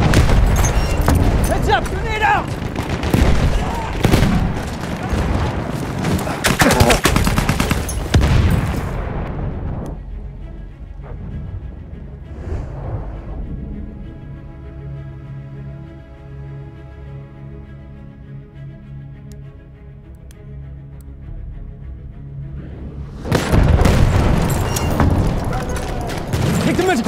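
Video game combat with a thrown grenade: heavy bursts of gunfire and booming blasts, a sudden drop to a quieter ringing stretch with tonal hum, then loud firing resumes near the end.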